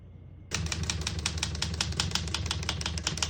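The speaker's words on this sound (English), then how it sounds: "We're going to keep it on single and finish typing." Rapid, steady key strikes on a 1968 Olivetti Lettera 32 portable typewriter, a close, crisp clatter of individual typebar hits that starts abruptly after a brief quiet moment and continues evenly.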